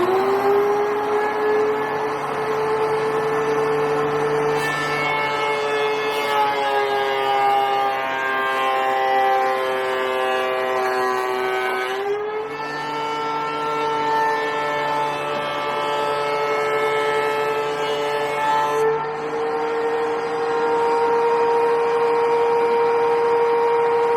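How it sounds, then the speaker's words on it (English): A surface planer passes through a glued-up wooden cheese board as a loud, steady mechanical whine with strong tonal harmonics, its pitch dipping briefly as the board feeds through, with no talk. "it's over to the surface planer."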